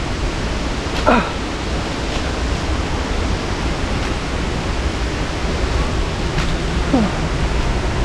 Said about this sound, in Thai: เดินมาจนถึงน้ำตกแล้วครับ